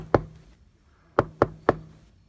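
Knocks on a newly built ground-mounted solar panel array: one sharp rap, a pause, then three quick evenly spaced raps, close and distinct against a quiet outdoor background.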